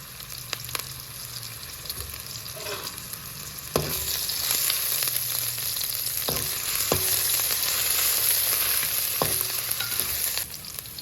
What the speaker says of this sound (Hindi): अब इसमें लहसुन और अदरक का पेस्ट डाल दें। इसको अच्छी तरह मिक्स कर लें।